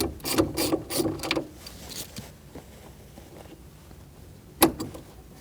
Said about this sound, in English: We're going to remove our negative battery terminal using a 10mm socket.